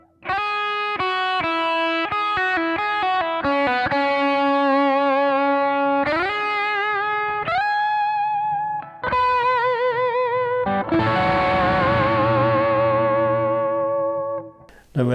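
Electric guitar run through effects units plays a riff: picked notes, then sustained chords and a swelling, washy distorted section, loud and upfront, with no talking.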